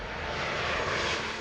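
Airplane engine roaring during an emergency landing with a suspected landing gear problem, a loud, steady broadband drone that holds constant throughout with no voices.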